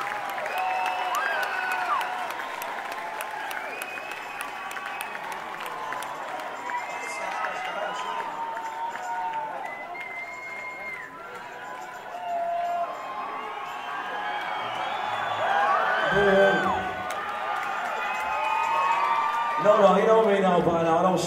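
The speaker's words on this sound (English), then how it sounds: "round of applause from both of us" Crowd at a rock concert in Portland applauding and cheering steadily for the whole stretch, with whoops and shouts over a dense roar that swells louder near the end; voices call out within the crowd.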